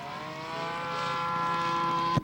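A scale model Royal Aircraft Factory BE-2E biplane flies at a show, its small engine droning with a steady buzzing tone that slowly swells as it draws nearer, ending in a short bump.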